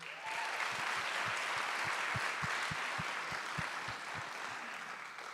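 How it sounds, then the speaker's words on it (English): A large audience at a chancellor's alumni awards ceremony claps warmly in a steady roar, with a row of regular low thumps running underneath. "So we give them a warm round of applause for all of them watching"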